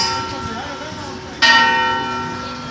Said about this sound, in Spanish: Esperemos las campanas.